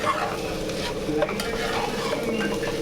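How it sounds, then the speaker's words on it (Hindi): Rice sizzles and fries in a pan with tomato, egg and onion in a home kitchen, a steady hiss with scraping stirs throughout and no talk. "भाभी जान हमारे लिए चावल फ्राई करती हुई"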